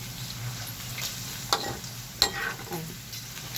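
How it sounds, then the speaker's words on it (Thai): Pork cracklings frying in oil in a wok are stirred, with a constant bubbling sizzle under a few sharp scraping knocks of the utensil against the pan. "ปิดไฟสะก่อนแล้วก็ตักน้ำมันออก"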